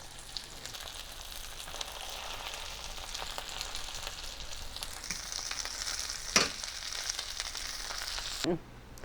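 Breaded pork tenderloins fry in a pan with a steady, close crackling sizzle, with occasional stirring clatter and a brief utensil scrape near the end.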